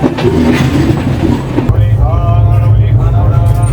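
Express train pulling out of Dhanbad station, a steady loud low rumble of wheels and carriage with a shift partway through to a smoother running drone, faint voices underneath.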